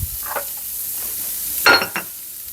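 Onion sizzling in a pan as the aromatic base for a mushroom risotto: a soft, steady frying hiss with a brief louder crackling burst partway through.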